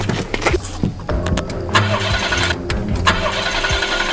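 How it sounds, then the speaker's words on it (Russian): A car engine cranks repeatedly without catching, uneven bursts of starter grinding and sputter, loud and close, in a tense real-life chase scene, without any talk. "машина не заводится"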